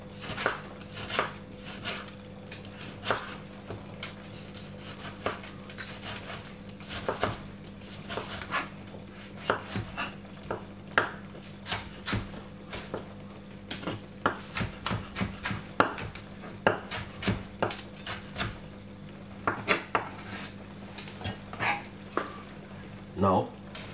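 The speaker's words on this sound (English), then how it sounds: "Cut up the tomato into some small dices like this." A knife dicing a tomato on a cutting board, a string of sharp irregular chops and taps spread across the stretch, with a person talking throughout and a low steady hum underneath.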